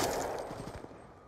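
Shotgun blasts from a Call of Duty: Black Ops 2 match, a loud burst at the start followed by several quick lower thumps, fading out in a short, busy stretch of game noise.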